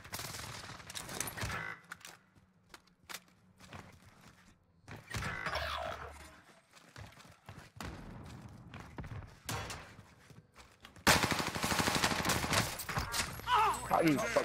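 Bursts of PPSh-41 submachine gun fire in Call of Duty Warzone on Rebirth Island, rapid rattling volleys broken by quieter stretches, with a loud sustained burst near the end and thuds and footsteps between.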